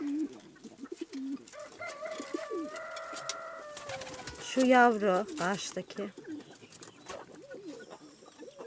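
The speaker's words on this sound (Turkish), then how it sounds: "Güvercinlerimiz burada." Pigeons coo softly in a garden, with low, rolling calls mixed among other bird sounds while someone talks nearby.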